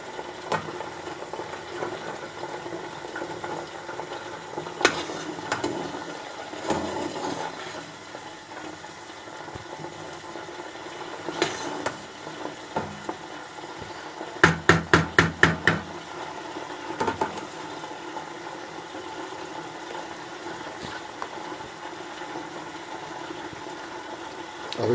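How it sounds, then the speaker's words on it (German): Clarified butter (ghee) bubbles in a pot as it cooks down, a steady crackling simmer with scattered pops and a brief rapid burst of sharp clicks partway through. "Aber es blubbert jetzt schon richtig schön laut."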